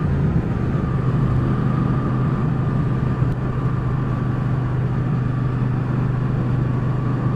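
A 2019 Triumph Speedmaster motorcycle pulling hard in fifth gear on a road ride, a steady loud engine drone with constant rushing wind noise and no clear voices.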